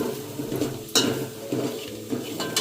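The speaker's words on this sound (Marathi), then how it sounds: "2 मोठे चमचे मालवणी मसालो घेतला आपलो. तो आता व्यवस्थित ढवळून घे." A spoon stirs Malvani masala through stuffed crab in a pan, with steady scraping and clinking against the metal and a light sizzle underneath, a few louder scrapes standing out.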